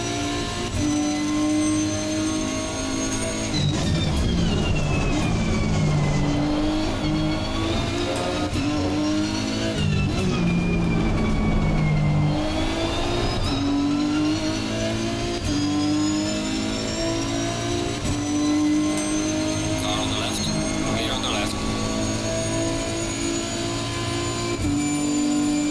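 A race car in Assetto Corsa Competizione laps the Nürburgring Nordschleife, its engine howling loudly and continuously, rising through the revs and dropping sharply with each gearshift and braking zone, with no talking over it.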